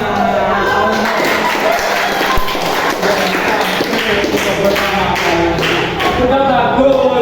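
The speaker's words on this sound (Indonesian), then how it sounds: "Tepuk tangan." Classroom audience, likely children, clapping together in a steady burst of dense, fairly loud hand claps that lasts several seconds, with some voices mixed in.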